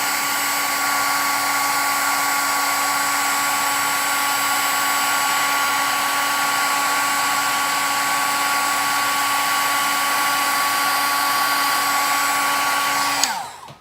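A heat tool blows steadily and loudly to melt embossing powder on matte photo prints during a scrapbooking craft session, a constant whirring roar running unbroken and close before cutting off abruptly at the end.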